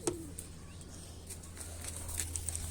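Pigeons, a Huma pigeon among them, coo softly in low, quiet murmurs against faint background noise.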